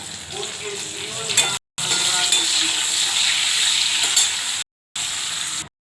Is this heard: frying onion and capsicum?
yes